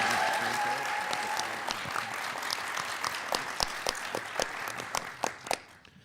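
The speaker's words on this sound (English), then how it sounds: "Let's give a big round of applause for our contestants" Audience applause at a Texas quiz show championship round in a theater, a dense burst of clapping that thins out into scattered individual claps before fading.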